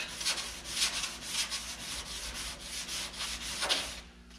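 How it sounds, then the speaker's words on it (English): A dent repair area is hand-sanded with 220 grit sandpaper in steady back-and-forth strokes, about seven rhythmic rasping passes, close and fairly quiet with no talking. "Now I'm starting with a 220 grit."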